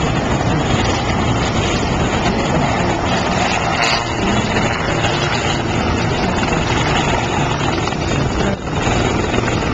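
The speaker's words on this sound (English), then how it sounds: "Oh look, a helicopter." A helicopter flies overhead with a loud, continuous rotor and engine drone that stays steady and close throughout.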